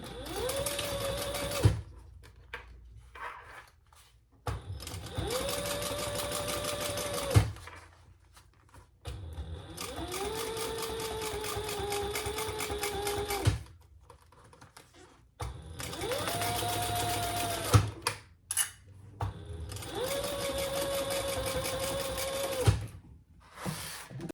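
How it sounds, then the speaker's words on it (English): A sewing machine top stitches across the top of a crossbody bag in five close, loud bursts of running stitches. Each run lasts several seconds, with short quiet pauses between them. "let's just top stitch across the top there"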